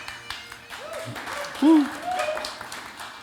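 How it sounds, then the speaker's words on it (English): An audience claps briefly in a hall, a short burst of applause with a whoop, mixed with people talking close by. "Are they clapping for the Bible or the beer, or both?"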